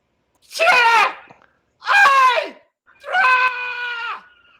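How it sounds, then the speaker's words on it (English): A person screams loudly in anguish three times, each a long, strained wail with brief silence between them. The last scream is held longest and trails off. "You like people screaming at the top of their lungs in anguish."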